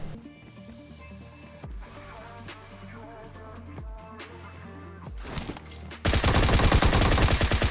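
Gunfire in a battle royale video game, scattered shots over background game sound, then a loud dense burst of rapid fire near the end, with a little speech.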